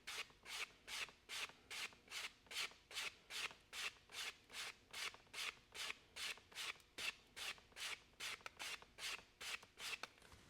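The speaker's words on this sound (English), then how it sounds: "I'll just come back with the stick and I'll sand a little bit more on this edge" A sanding stick rubbed along the edge of a leather snakeskin wallet, about two dozen quick, evenly spaced scraping strokes at close range.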